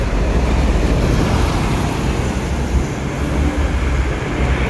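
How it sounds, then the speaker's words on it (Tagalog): A Hong Kong light rail train on a hot city street near a pedestrian crossing, heard as a steady, loud broadband rumble with traffic-like noise filling the whole stretch. "Light rail train."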